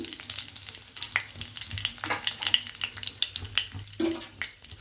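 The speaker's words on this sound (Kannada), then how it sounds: "ಇವಾಗ ನಾನು ಇದ್ರೊಳಗಡೆಗೆ ಕರ್ಬೇವಿನ ಸೊಪ್ಪನ್ನು ಹಾಕ್ಕೊಳ್ತೀನಿ" Curry leaves crackle and sizzle in hot oil in a home kitchen, a steady loud frying hiss broken by sharp spits and pops with a few stirring scrapes, no voices.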